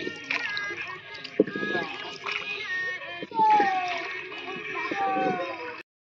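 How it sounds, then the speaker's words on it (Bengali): People climbing out of a rowing boat on a river, with water splashing and sloshing around the hull, a sharp knock, and voices and children's cries talking over the movement, close by. "এখন সবাই নৌকার থেকে নামছে"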